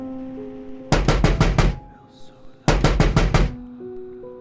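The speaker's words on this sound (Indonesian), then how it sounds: "terdengar ketukan di pintu depan rumah" Two quick bursts of knocking on a house's front door, each a rapid run of about five sharp raps, separated by a pause of roughly a second; loud and close, with no voices alongside.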